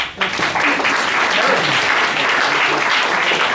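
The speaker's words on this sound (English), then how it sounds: "Round of applause for Eric" Loud, dense audience applause at a family celebration fills the whole stretch, starting sharply after a brief lull and holding steady throughout, with faint voices mixed in.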